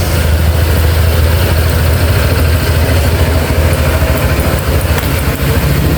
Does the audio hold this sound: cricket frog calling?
no